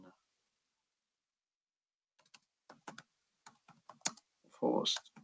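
Someone types on a computer keyboard, entering a search: quiet, close keystrokes come in short irregular bursts after a silent stretch, and a brief voice is heard near the end.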